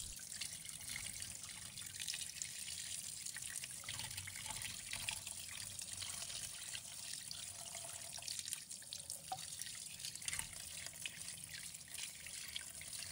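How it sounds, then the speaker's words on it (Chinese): Tap water runs steadily while sand whiting fish are rinsed in a sink, a constant soft splashing and trickle that carries on without pause and without any talking. "我们用流动水清洗，鱼身的血水和残留的杂质都被冲得干干净净。"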